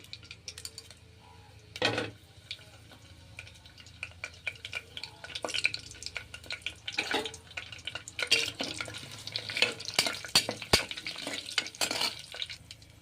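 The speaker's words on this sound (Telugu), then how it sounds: "ఇప్పుడు తీసుకుని పెట్టుకున్న దినుసులు వేసుకోవచ్చు." Whole spices tossed into hot oil and a little ghee crackle and sizzle in bursts, with scattered pops and stirring scrapes, fairly close and moderately loud, no voices.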